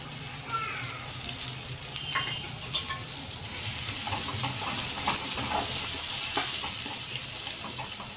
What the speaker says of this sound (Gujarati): હવે તેમાં 2 ચમચી ચણાનો લોટ નાખી દેશું, જેથી કરીને તે પણ સરસ રીતે તેલમાં